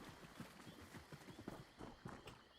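Horse hooves clip-clop in the Elder Scrolls Online video game, a steady run of soft, evenly paced footfalls over a low ambient background, with no talk.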